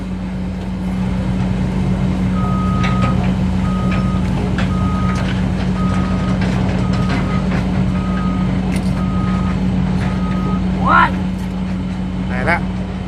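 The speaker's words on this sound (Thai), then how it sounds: "เป็น18 ล้อครับคันนี้" An 18-wheel dump truck hauling sand for a Mekong riverbank levee reverses with a steady run of evenly spaced beeps over a constant low engine drone, with voices in the background.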